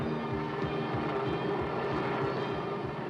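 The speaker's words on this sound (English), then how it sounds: "The anti-tank helicopter." An anti-tank military helicopter flies overhead with a steady, loud rotor drone and a rhythmic thumping of blades, unbroken for the whole stretch.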